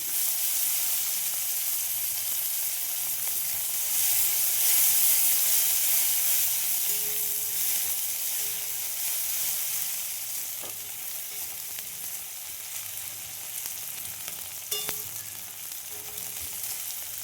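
Long-sliced onions frying in oil with black cumin seeds, a steady close sizzle and hiss that eases slightly partway through, with a couple of faint clicks and no talking.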